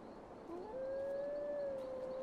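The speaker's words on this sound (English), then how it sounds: "Ooh, I hear wolves." Wolves howl in the video game Tengami, one long steady howl rising then holding a sustained tone, with a fainter second voice above it, over a quiet background.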